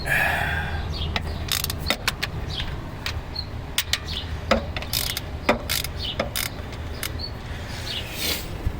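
A wrench clicks and ratchets on the rear bolts of a Quadrajet carburetor during a replacement job. Sharp, irregular metallic ticks and pawl clicks sit close against a quiet background.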